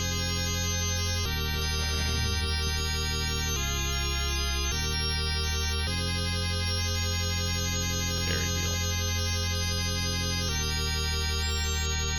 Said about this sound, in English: I've touched poison. It sounds like this.